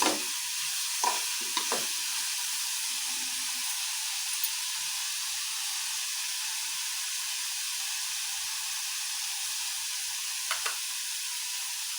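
Food frying in a pan, a steady even hiss of sizzling oil throughout, with a few scattered soft taps and stirring clinks near the start and once more near the end.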